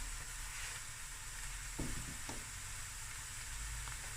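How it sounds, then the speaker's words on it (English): Prawns fry in a pan, a constant dense sizzle with a couple of short scraping stirs partway through. "you're going to let this fry for about 5 minutes"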